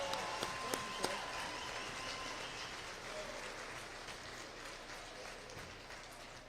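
At a college athletic awards banquet, an audience claps for the cheering staff. The dense, fairly distant applause fills the hall evenly, with a few sharper claps standing out early on.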